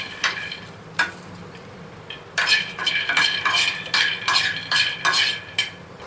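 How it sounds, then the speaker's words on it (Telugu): Peanuts being roasted in a pan over medium heat, stirred with a utensil that gives clustered metallic scrapes and clinks, a few sparse taps and then a busier burst of stirring, close by. "పల్లీల్ని మీడియంలో పెట్టేసి పల్లీల్ని వేపుకున్నాం"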